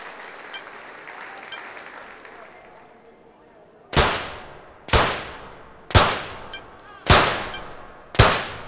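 Six sharp, loud pistol shots from a 25m rapid-fire pistol event in the London 2012 video game, spaced about a second apart with ringing tails, after a few seconds of quiet crowd ambience.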